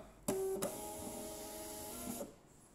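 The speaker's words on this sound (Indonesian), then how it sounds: "Lalu kita akan print hal yang sama." A thermal label printer printing a Tokopedia or Shopee shipping label, a steady mechanical whir with a clicking start and stop at each end, close and moderately quiet with no speech.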